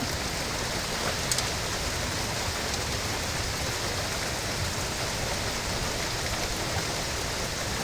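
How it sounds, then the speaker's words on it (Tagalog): Heavy rain pours steadily, a dense continuous hiss with no gaps, close and loud throughout. "kaso lang ang lakas ng ulan"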